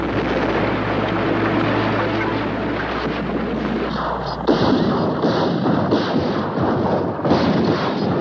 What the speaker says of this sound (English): First, gunners blanketed the towns with artillery.